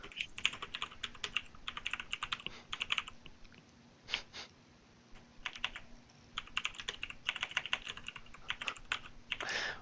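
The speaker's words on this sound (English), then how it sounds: "What are you typing to them?" Rapid clattering keystrokes on a computer keyboard during a League match, coming in dense bursts separated by brief pauses, close and moderately loud with no talk over them.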